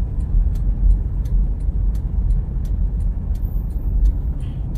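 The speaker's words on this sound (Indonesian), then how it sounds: "Cukup banyak kendaraan yang antri di sini" Several vehicles idle in a queue at a Shell petrol station forecourt, a steady low engine rumble with faint clicks and hiss over the top, no talking.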